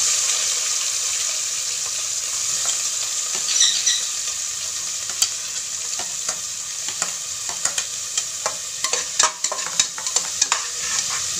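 Onions frying in a pan for vegetable kurma, with cinnamon and cloves, sizzle steadily throughout, while sharp spoon scrapes and stirring clatters punctuate the second half, close and clear with no talking.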